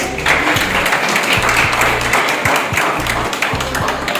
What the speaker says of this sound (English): So I think everybody deserves a big round of applause.